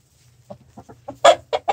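A small rooster with a green tail in a backyard henhouse gives a short burst of clucks that builds to louder, sharper calls, close by and with no talking.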